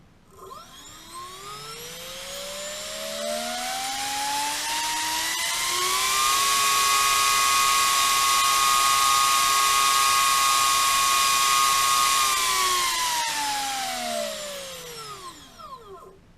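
A small motor spinning a 2.5-inch toroidal drone propeller spins up from a low whine to a steady high-pitched buzzing hum, holds for several seconds, then winds back down.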